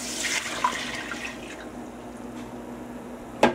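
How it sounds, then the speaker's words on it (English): Water is poured into a pot of uncooked rice, a faint splashing trickle near the start fading into quiet, followed by a sharp clatter at the end. "I already measured 2 1/4 cups of water, so now I'm gonna dump this in."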